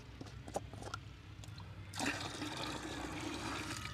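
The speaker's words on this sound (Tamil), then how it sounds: "ஏற்கனவே ஒன்று ஊற்றியாச்சு இது ரெண்டாவது ஊற்றியாச்சு அடுத்து மூணாவது" Liquid poured from a can into a tractor engine, a steady gurgling splash that begins abruptly partway through and continues to the end over a low background hum.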